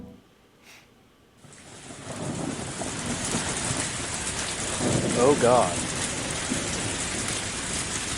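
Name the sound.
rain in the visual novel Higurashi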